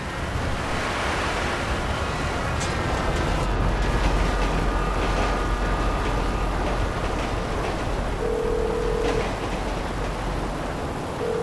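A train rumbles past in GTA V, a dense, continuous roar of rolling wheels and wind-like rush that stays loud and steady throughout, with faint tonal squeals and no speech.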